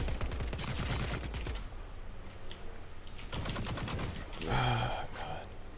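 Rapid bursts of gunfire crackle in The Cycle, a quick volley of close shots at the start and more scattered firing later, mixed with other game noise.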